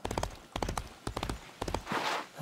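Hooves of a trotting horse in the Disney Infinity 3.0 video game clip-clop in four quick, evenly spaced bursts, close and crisp, with a soft whooshing swell at the end.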